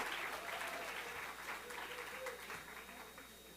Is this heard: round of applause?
yes